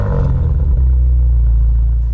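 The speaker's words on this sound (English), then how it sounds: "This feels like a good time to listen to the engine's cold start." A new BMW M5 engine cold start: cranks and catches, briefly revving before settling into a loud, steady low idle rumble close by.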